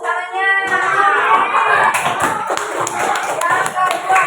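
A classroom of students claps together, a dense burst of hand applause with some scattered taps, fairly loud and close, mixed with voices.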